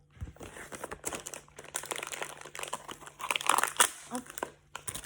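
Plastic film for covering books crinkles and crackles in dense, uneven bursts throughout, close by, with a voice speaking at times underneath.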